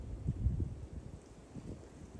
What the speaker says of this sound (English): It's extremely windy now.